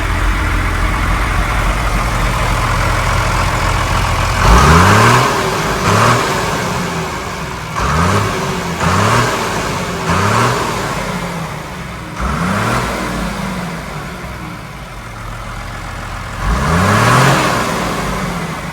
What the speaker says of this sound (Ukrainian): Дуже гарно муркоче двигун.